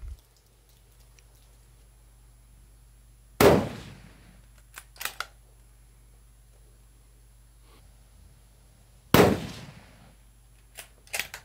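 Two loud, sharp gunshots ring out several seconds apart at an outdoor shooting range, each with a short echoing tail, followed by faint clinks; handguns and a .30-06 rifle are fired there.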